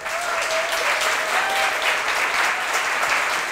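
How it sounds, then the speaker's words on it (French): A pitch-night audience breaks into sustained applause, dense clapping from a crowd filling the room evenly for several seconds without letting up. "sous un tonnerre d'applaudissements"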